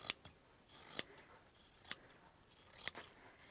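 Scissors snip through fabric along a traced tail outline, a few sharp separate cuts spaced about a second apart, close and fairly quiet with no talking.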